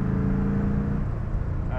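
An Iso Grifo, an Italian car with an American engine, pulls hard with a deep, steady engine drone heard from inside the car, loud and constant, with a rising tone creeping in at the end.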